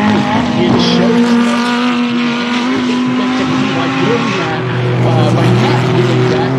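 GT race cars, including an Acura NSX, racing at Virginia International Raceway, with loud engine roars and shifting revs building and fading as they pass, under continuous commentary.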